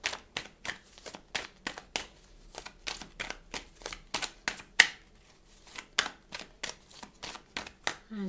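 Tarot cards shuffled in a rapid, steady riffle of crisp papery snaps, close and fairly quiet, with a few cards slapping down along the way and no speech.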